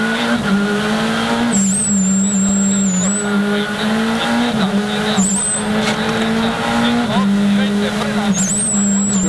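A WRC rally car at the 2011 Rally of Spain runs flat out on a tarmac stage, its engine droning steadily and loudly from inside the car with brief tyre squeals, and a voice talks over it.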